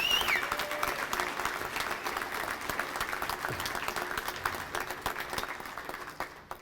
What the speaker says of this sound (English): can we please get a round of applause for all the volunteers that helped me make this